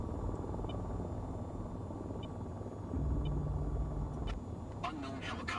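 A helicopter in the VTOL VR video game gives off a steady low rotor rumble that grows heavier partway through, with faint electronic beeps and a few sharp clicks near the end.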